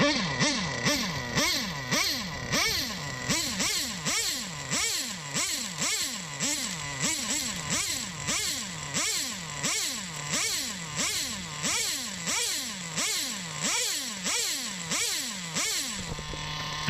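A nitro HPI RS4 RC car fitted with an old-school Novarossi 15SX big block engine screams close by, revving in a rapid rising-and-falling pattern of repeated bursts before settling to a steadier whine at the end.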